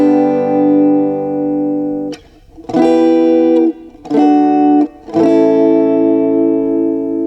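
Guitar chords recorded straight into a DI unit open a song, each chord held and ringing before brief gaps and abrupt changes, loud and upfront with no voices.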